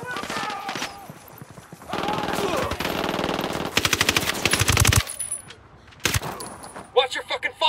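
Loud machine-gun bursts in the shooter game Ghost Recon Wildlands, with long rattling volleys and shorter stuttering bursts separated by brief lulls, and voices appearing among the shots.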